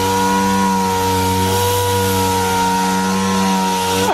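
A power sander grinds steadily across a lifted Ford F-350 dually truck's body panel, feathering out scratches; a loud, continuous whine with strong tonal hum holds throughout without pause.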